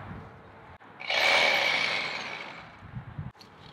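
A power tool whines up and cuts into wood for a chicken coop and run build, with one loud sustained buzzing burst of about two seconds that fades out, close by.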